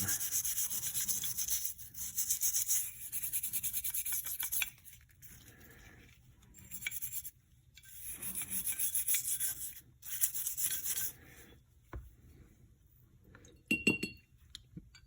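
Firing pin, extractor and other small Colt 45 ACP pistol parts scrubbed with solvent during winter cleaning: close, repeated bursts of brisk rubbing and brushing with light metallic clinks, broken by short pauses.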